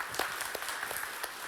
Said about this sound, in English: Can we give Josh a round of applause,